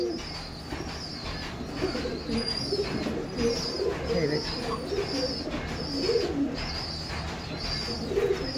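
Green pigeons at a breeder's home coop in Beldanga, Murshidabad, coo repeatedly in soft low rolling calls, close and continuous, while a person talks over them.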